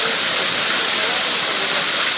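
Forest waterfall dropping water from a height of 11 metres, a steady, loud broadband rush of falling water with no pauses.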